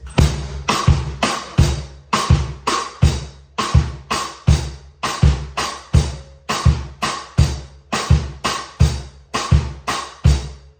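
A drum groove with steady kick hits and sharp rim clicks in a syncopated dancehall rhythm, repeating evenly and played alone.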